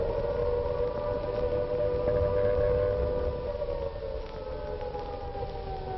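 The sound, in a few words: air raid siren wailing over London, 1940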